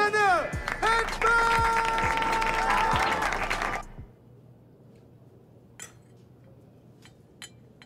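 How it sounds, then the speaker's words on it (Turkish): A studio audience applauds for Barbie, the night's first winner, on a Turkish TV set: loud sustained clapping with voices and music for about four seconds, then cutting off abruptly into near silence broken by a few faint clicks. "Barbie için bir alkış."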